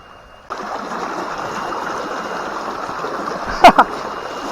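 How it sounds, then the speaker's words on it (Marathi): Steady rushing water fills the clip, a continuous broadband roar from a nearby stream, with a couple of brief splashy bursts near the end. "झोत बघा कसला आहे झोत पाण्याचा"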